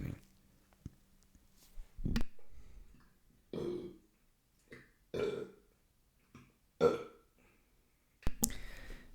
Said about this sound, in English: The burps came.